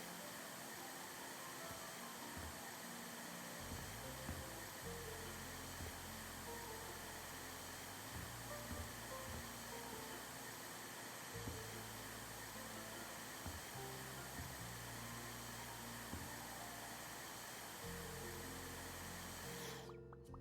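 A steady, droning vacuum cleaner whir from House Flipper 2, running continuously at a constant level for the whole stretch, with light music and faint game sounds layered underneath.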